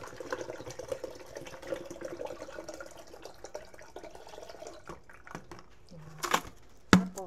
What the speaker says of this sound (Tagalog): So, pupunin natin siya ng tubig.